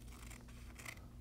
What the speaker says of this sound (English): we're going to cut this template out, but we're going to roughly cut it